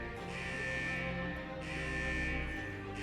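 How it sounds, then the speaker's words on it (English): A vault's central alarm in Wuthering Waves, a steady buzzing electronic tone that pulses in two long swells over a low game backdrop, no talk. "Is that the central alarm of the vault?"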